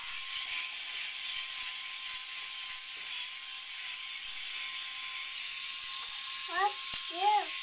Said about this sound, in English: here I am going to shave with the Norelco Arcitec